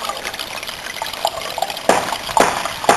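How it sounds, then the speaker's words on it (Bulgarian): Water rushes steadily through a gold concentrator at a moderate speed, a continuous splashing trickle with a few louder sloshing surges near the end. "виждате скоростта на водата"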